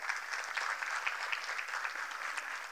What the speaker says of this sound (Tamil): அவங்களுக்கு பெரிய கைத்தட்டு கொடுங்க.